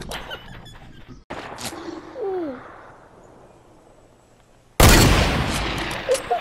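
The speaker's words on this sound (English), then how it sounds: "I get scared when I see the bullets fly by my face." Loud, sharp bursts of gunfire in a first-person shooter video game, hand-cannon and sniper shots cracking out one at a time, followed by a dense volley of rapid fire near the end. There is no speech.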